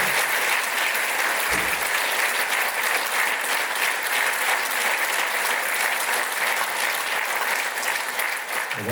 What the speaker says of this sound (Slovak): Ja myslím, že si to zaslúži ten veľký potlesk.